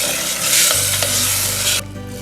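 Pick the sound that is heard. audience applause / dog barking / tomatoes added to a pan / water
tomatoes added to a pan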